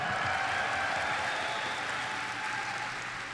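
Audience applause at TennoCon, a steady wash of clapping from a large crowd, sustained and fairly even before easing slightly toward the end, with no talk over it.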